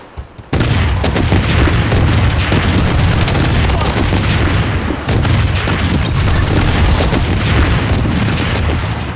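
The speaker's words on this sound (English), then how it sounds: "Missile bombardment on its way." A missile bombardment in the Project Blood Strike shooter game lands as a sustained, heavy barrage of booming explosions, loud and rumbling almost without pause after a short quiet start, with voices faintly underneath.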